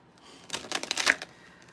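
A deck of cards being shuffled, a quick burst of crisp riffling flutters lasting under a second, close and fairly soft, with quiet surroundings before and after.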